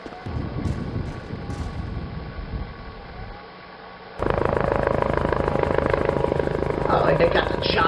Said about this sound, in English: Oh, they got the chopper.